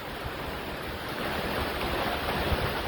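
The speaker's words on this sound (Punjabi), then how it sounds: "ਸਵੇਰ ਦੀ ਕਿਣਮਣ ਕਿਣਮਣ ਕਿਣਮਣ ਲਾਈ ਹੋਈ ਇਹਨੇ ਤੜਕੇ ਦੀ" Steady broadband wash of early-morning rain in Seechewal, starting as a drizzle and thickening toward heavier fall, continuous and close with no voices over it.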